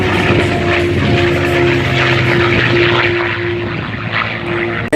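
A loud, close propeller warbird roars past at an air show, such as a P-51 Mustang or B-17 Flying Fortress, with a steady droning engine and a buzzing tone held the whole time.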